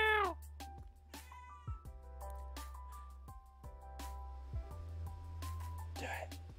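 A pet cat meows repeatedly indoors, its clear, close cries recurring throughout over a low steady hum from the room, with occasional short voice sounds mixed in.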